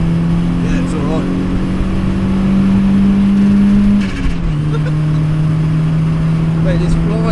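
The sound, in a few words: turbo Ford Fiesta XR2 accelerating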